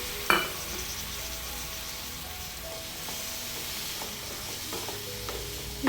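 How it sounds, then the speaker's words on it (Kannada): Boiled ivy gourd is stirred into masala frying in a pan, a steady sizzle under scraping spoon strokes, with a sharp clink at the start and at the end. "ಇದಕ್ಕೆ ನಾವು ಆಲ್ರೆಡಿ ಬೇಯಿಸ್ಕೊಂಡಿರೋ ತೊಂಡೆಕಾಯಿನ ಹಾಕ್ಕೊಳ್ತಾ ಇದ್ದೀನಿ"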